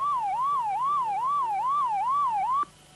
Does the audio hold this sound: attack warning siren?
yes